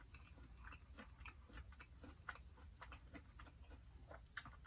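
Someone eating boiled crawfish at a seafood boil, with soft, close chewing and small clicking bites in a steady, unhurried rhythm at low volume and no talking.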